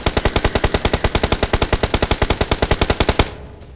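Rapid automatic gunfire in a battle-royale shooter game, a steady burst of about three dozen sharp shots in even rhythm, loud and close, then abruptly stopping.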